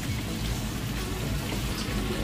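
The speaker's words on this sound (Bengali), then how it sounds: "তাহলে ঝোলের জন্য পানি দেওয়া হয়েছে পরিমাণ মতো।" Water is poured into a pan of frying curry to make gravy, a steady loud hiss and splash of liquid hitting hot oil throughout.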